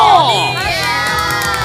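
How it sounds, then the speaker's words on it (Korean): A lively crowd cheers and whoops loudly, with excited high-pitched shouts and voices blending together in a dense, energetic roar. "다들 박수!"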